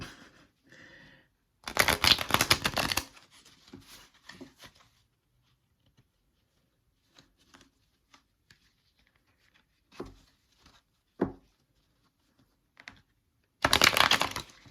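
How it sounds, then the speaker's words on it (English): Playing cards being shuffled in two loud riffling bursts, with soft card handling and scattered small taps in the quieter stretch between them. "Wow, that was a really bad shuffle."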